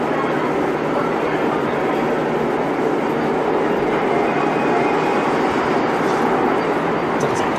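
A Tokyu Meguro Line train passes near Ookayama station, a loud, continuous rumbling roar of rail noise that holds steady across the whole stretch, with possible faint voices underneath.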